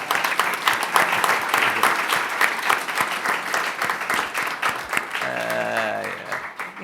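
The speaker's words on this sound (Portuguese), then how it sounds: "Porque a gente quer te aplaudir." An audience at a talk about an art exhibition breaks into steady, dense applause that fills most of the stretch, tapering slightly before a voice begins speaking near the end.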